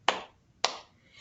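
Two sharp, crisp hand claps from preschool children singing along to "If You're Happy and You Know It," spaced about half a second apart, close and clear against a quiet background.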